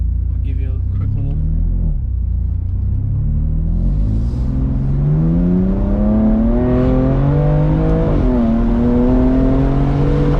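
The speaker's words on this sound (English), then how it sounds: "So now I have the windows down and put it in sport." BMW M2 Competition in sport mode with the windows down, its engine rising steadily in pitch as it accelerates hard through a gear change, loud and close from inside the cabin, with a constant low rumble beneath.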